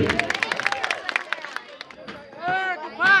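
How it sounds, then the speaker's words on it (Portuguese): Rodeo audience clapping, a burst of sharp, uneven claps early on with crowd murmur behind, then loud cheering voices rising over it. "cadê a salva de palmas pra esses meninos?"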